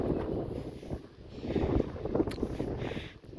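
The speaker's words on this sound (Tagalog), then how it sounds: "Medyo malakas lang yung hangin." Strong wind buffets the microphone at Yan Yean Lake Reservoir in Melbourne, with low rumbling gusts that rise and fall unevenly and no speech heard.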